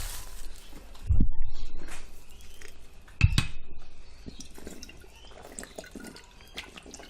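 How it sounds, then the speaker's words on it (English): Water is poured onto breakfast cereal in a bowl at home, a soft, close trickle with a couple of sharp clinks of the container against the bowl. "I should put some water on there first."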